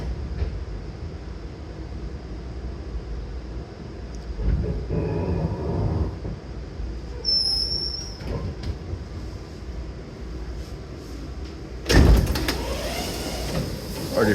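PATH train at Journal Square station: steady rumble of a train interior with a brief high chime, a short burst of movement noise and a loud clunk like doors operating, with no talking.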